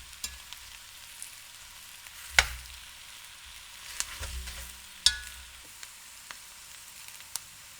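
Sausage and vegetable mix for gumbo being stirred in a hot pot, with a soft steady sizzle and a few sharp scrapes and clunks of the spoon against the pan.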